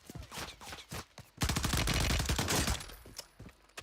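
Gunfire in the video game Warzone, a series of sharp shots followed by a dense burst of rapid automatic fire in the middle, then scattered single reports, fairly faint overall.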